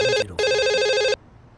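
A telephone bell rings loudly in two bursts, a short one then a longer one, before cutting off to quiet room noise.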